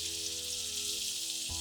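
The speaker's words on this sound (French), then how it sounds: "on jette le poireau" Leeks tossed into hot butter in a pan, a quiet continuous sizzle with a faint bump near the end, heard alone without speech.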